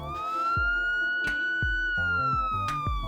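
Police siren wailing in a steady high sweeping tone, moderately loud, with sharp thuds and bangs breaking in under it.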